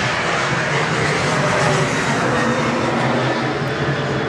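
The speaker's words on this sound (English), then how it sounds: "There's a Qantas 737 taking off." A Qantas Boeing 737 jet takes off at an airport with a loud, steady, broadband engine roar that fills the whole stretch.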